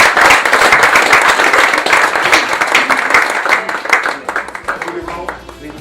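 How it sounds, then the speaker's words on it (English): Audience applause at an authors' showcase event, a dense, loud burst of clapping that fills the space and gradually thins toward the end, with a voice coming through underneath. "please clap for him."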